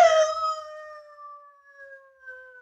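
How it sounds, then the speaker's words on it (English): A three-quarter Irish setter howls in an old-time radio drama, one long sustained wavering howl that starts loud and fades gradually, heard alone and fairly close. "the three-quarter Irish setter. A good dog."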